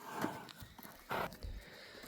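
A horse walks at a horse market, its hooves clip-clopping in a few uneven, moderately close thuds over low background murmur.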